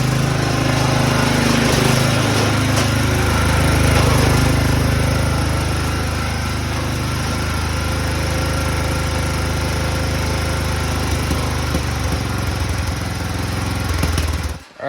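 A homemade racing lawn mower's small engine drones loudly and steadily throughout, with a low rumble and a slight swell and fade in intensity, then cuts off abruptly at the end.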